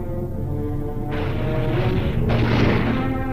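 An atomic explosion blast from a military training film rolls through as a deep, rumbling roar. It swells and surges twice over a few seconds, with no voices.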